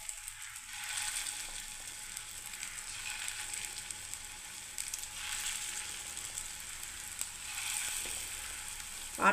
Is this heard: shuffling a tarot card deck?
no